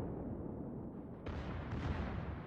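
Guns of the Shimakaze destroyer firing in a naval battle game: a dense, continuous booming rumble that sharpens into a louder burst halfway through.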